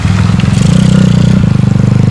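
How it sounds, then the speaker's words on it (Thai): A motorcycle engine chugs close by with a rapid, steady pulsing throb while the bike crosses a stream near a rainy-season forest campsite in Suan Phueng, Ratchaburi. "นี่มอไซค์ข้ามได้ เห็นไหม"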